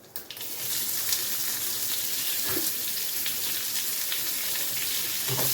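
Chopped onions hitting hot oil in a pan, a dense steady sizzle that starts after a brief clatter and carries on loud and even, with occasional small pops and scrapes.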